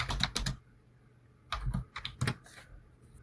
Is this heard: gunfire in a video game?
no